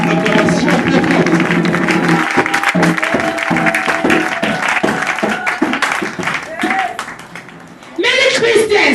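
A church congregation at a year-end service claps and cheers loudly and continuously, with a brief dip near the end before the noise surges again, while a voice talks over parts of it.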